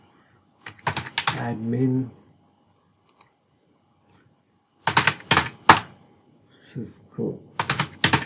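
Bursts of clicky typing on a computer keyboard entering commands into a Cisco switch telnet session, clustered keystrokes in short runs separated by pauses, with a voice speaking between them.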